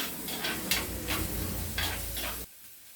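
Onions sautéing in a pan for a soya chunk and avarakkai sabzi, with steady close sizzling and several scraping stirs of a spoon across the pan, then the sizzle drops away abruptly near the end.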